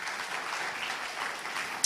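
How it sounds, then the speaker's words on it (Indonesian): A church congregation at a Christmas celebration claps in a full, steady burst of applause lasting the whole stretch, with no talking over it. "Beri tepuk tangan buat Tuhan kita."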